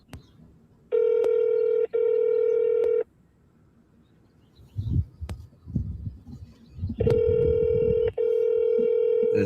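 Telephone keypad dialing tones sound in two clear bursts of sharp, steady beeps, loud and close. Between the bursts come a quiet stretch and some low muffled rustling.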